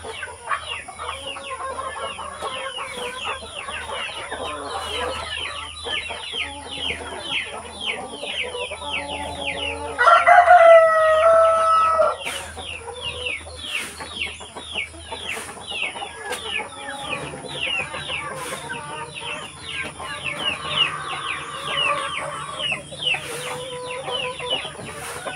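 Backyard chickens cluck and chatter continuously on a small farm that also keeps goats, with one louder rooster crow rising near the middle, all close and fairly loud with no talking.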